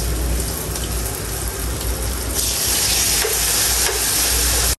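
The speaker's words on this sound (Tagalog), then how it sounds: "Atin pong piniprito." Banana flower pieces frying in oil, a loud, steady bright sizzle that runs close and unbroken throughout, with faint stirring clatter and no talking.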